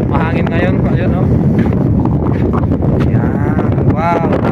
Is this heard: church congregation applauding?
no